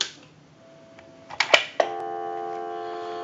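DTMF touch-tone dialing on a Western Electric Trimline telephone under repair, heard through an amplifier: a few quick clipped tone bursts after a faint steady tone, then a sustained steady tone, close and clear.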